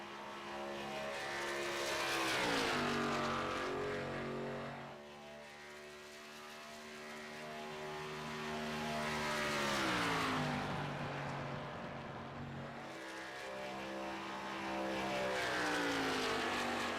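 ARCA stock cars race past at Atlanta Motor Speedway, their engines roaring and dropping in pitch as they sweep by. Several cars pass one after another, sustained and loud, with no talk.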